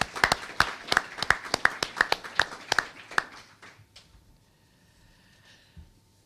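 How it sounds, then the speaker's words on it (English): Audience applause at the opening session of an international teachers' seminar, a burst of sharp, roughly evenly spaced claps in a large room that thins out and dies away into quiet after about four seconds. "I would propose applaud the teachers, all of you in fact."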